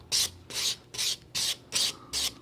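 Buffer block rubbed back and forth on an acrylic surface, six short rasping strokes in a steady rhythm, close and fairly quiet, with no talking.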